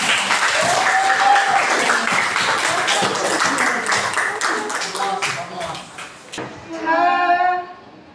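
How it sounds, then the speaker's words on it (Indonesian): A classroom audience gives lively applause after a presentation, close steady clapping that fades near the end, with a voice speaking briefly over the final seconds. "Oke, kasih tepuk tangan yang meriah."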